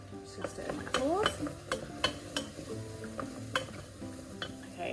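A spoon stirs butter cubes in a bowl for an apple crumble, giving continuous scraping and clinking with a brief squeak, close and moderately loud, with no talk.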